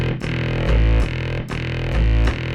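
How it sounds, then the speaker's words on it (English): A Yamaha PSS-390 home keyboard layering a string ensemble voice with a sine wave voice, playing sustained, slightly raspy chords that change every half second or so, loud and close with no talking. "It's number 41 combined with 99. So string ensemble with the sine wave."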